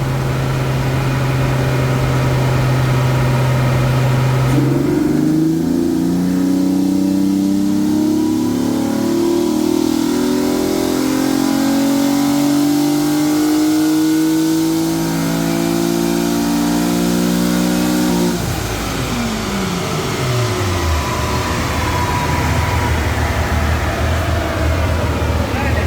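A VR6 car engine on a dyno climbs steadily in pitch through a long sustained wide-open pull, loud and close, then drops off as the revs fall back toward idle.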